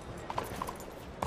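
Horse hooves clopping in the video game Red Dead Redemption 2, a few short, light steps scattered across a quiet moment, fairly soft and in the background.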